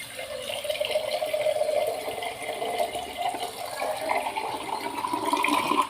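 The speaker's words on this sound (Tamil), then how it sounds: "தண்ணி ஊற்றி வேக வச்சுக்கிறேன்." Water runs and splashes into a clay cooking pot of dried-fish curry, a steady close pouring wash with no speech.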